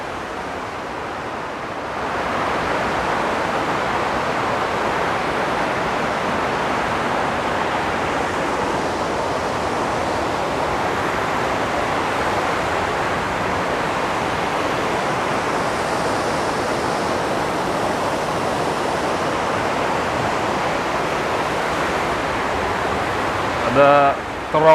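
Rushing mountain stream in the Grindelwald glacier gorge, a loud continuous roar of water heard up close and steady throughout, with a brief knock near the end.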